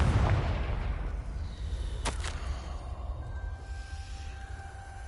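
A Confringo fire spell blasts in Hogwarts Legacy: a deep rumbling boom at the start, then two sharp cracking bursts in quick succession, fading into a low lingering rumble with a faint tonal hum.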